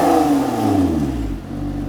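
A Lotus Emira sports car engine on its stock exhaust, revving close and loud in one brief sweep with a falling growl as the revs drop.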